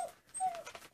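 A dog whimpering in a few faint, thin, high whines, brief and quiet with silence between them.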